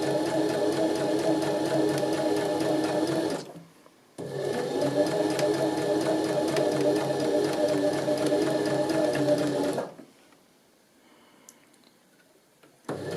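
A sewing machine runs steadily while stitching a curved seam, two long bursts of continuous stitching separated by a brief pause, then stopping into near silence.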